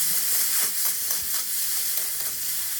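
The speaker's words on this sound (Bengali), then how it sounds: "ভালো করে নাড়াচাড়া করে নিলাম" Steady frying sizzle with soft scraping strokes as precooked potatoes, peas, chopped tomato, salt and spices are stirred in a hot pan for sabudana khichdi, close and continuous.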